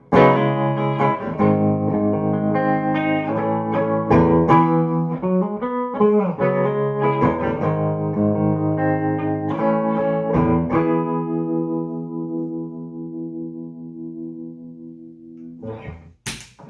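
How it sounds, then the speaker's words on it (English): Clean electric guitar chords ring through an amplifier with the pedal bypassed, strummed and sustained, then a long decaying chord fades before a final brief strum. "This is the sound of the guitar into the amp bypassing the pedal."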